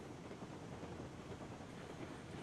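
A Cooke 2-8-0 steam locomotive hauling iron ore in Railroads Online rumbles along in a steady, faint, dense roll of wheel and track noise with no distinct beats.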